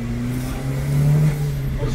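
Chevrolet Celta 1.0 turbo with an exhaust lacking a muffler, its engine revving loudly up close, a deep droning note rising briefly mid-way and settling back with no talk.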